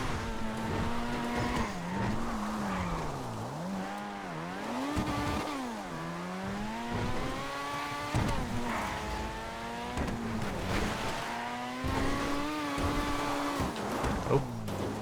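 A light car in GTA 5 is driven hard, its engine revving and shifting in rising and falling sweeps, with tires squealing and skidding through turns across the whole stretch, loud and continuous.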